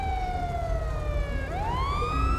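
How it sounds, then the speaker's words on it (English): A California Highway Patrol police car siren, left on in the video game Grand Theft Auto, wails continuously and swoops down, then up again, with a distant engine hum underneath. "He just left his siren on."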